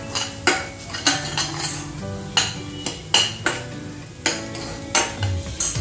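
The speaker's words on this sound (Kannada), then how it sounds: "ಈ ಕಡೆ ಕ್ಯಾಬೇಜನ್ನು ಬಿಸಿಗಿಟ್ಟಿದ್ದೀನಿ." A metal ladle scrapes and clanks repeatedly against a pan of cabbage cooking on the stove, sharp, loud, irregular knocks over a faint background hiss.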